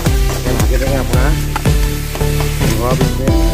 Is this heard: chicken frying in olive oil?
yes